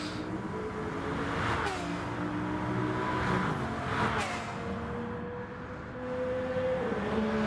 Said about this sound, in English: As you can hear there with the Audi and the Bugatti, it just drowns out the Hyundais there